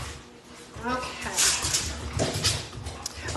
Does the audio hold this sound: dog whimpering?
yes